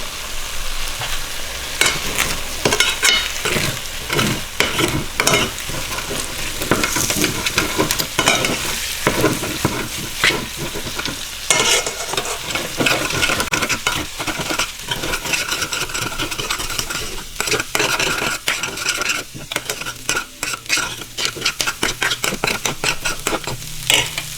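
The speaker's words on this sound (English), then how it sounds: "I'm going to add turmeric root powder and mix it in." A spoon stirs turmeric root powder into a mixture in a pan, producing continuous scraping and swishing with a sizzling, frying-like texture, close and steady with no speech.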